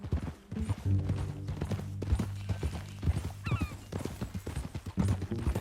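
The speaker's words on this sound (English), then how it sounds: "That a new horse?" Horse hooves clip-clopping at a walk in the video game Red Dead Redemption 2, steady close hoofbeats over a low music bed with gear jingling and a brief faint bird call.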